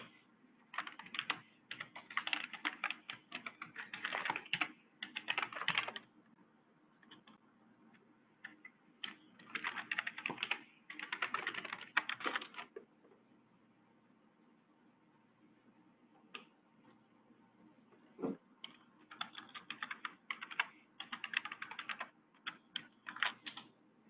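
A computer keyboard is typed on in quick bursts of soft, close clicking, separated by short pauses and a few isolated taps across the stretch.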